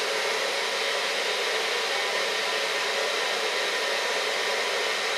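A hair dryer fitted with a wash flannel held by a rubber band as a makeshift diffuser blows continuously with a steady, hissing whoosh of air, constant and loud from start to finish.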